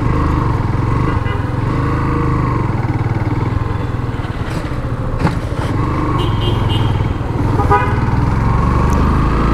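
A Yamaha FZS V2 motorcycle is ridden along, its engine droning loudly and steadily throughout, with faint traffic around it and horns sounding in the background.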